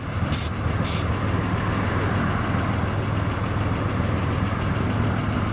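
A 1947 Chevrolet Fleetline 2-door Aero Sedan with adjustable suspension lowers to ride height. A steady, loud engine idle or pump drone continues throughout, with two brief hissing bursts near the start that suggest air being released.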